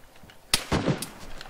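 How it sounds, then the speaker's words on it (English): A few sharp gunshots in an online multiplayer heist game: a loud crack, then a heavier report and a fainter third shot, close and fairly dry, with no talking. "I hear those shots."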